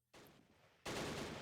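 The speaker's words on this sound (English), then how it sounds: "There's some heavy machine gun fire coming in from over there or something." Heavy machine gun fire in the Close Combat war game, with the Pegasus Bridge battle underway: a brief crackling burst, then a louder, dense rattling volley that continues to the end.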